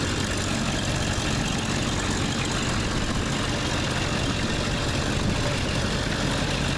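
Idling 1984 Oldsmobile Delta 88 Royale diesel, heard close with the hood up: a loud, steady, gruff clatter and drone that stays even throughout, with no one talking.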